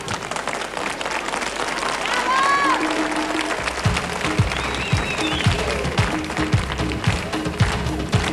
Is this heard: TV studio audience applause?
yes